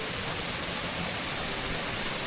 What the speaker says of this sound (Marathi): मस्त असे छोटे छोटे झरणे आहेत. पाण्याचा फ्लो छान आहे.